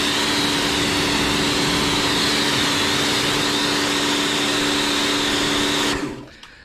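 A Karcher K2 compact pressure washer fitted with a K4 adjustable spray head runs loud and steady with a constant motor whine and hissing spray, then cuts off abruptly near the end.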